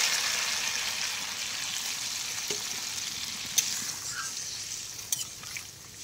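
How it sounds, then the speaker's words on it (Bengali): Hot water poured into a thin, simmering curry in a home kitchen: a steady soft hiss and trickle of liquid, moderately faint, with a few small clinks along the way. "আমি গরম জলটাই দিয়ে দিচ্ছি"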